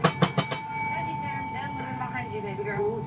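A bell rings in a quick burst of four or five bright strikes at the start, then its tone rings out and fades while someone talks over it.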